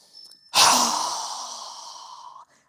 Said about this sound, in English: Strong exhale.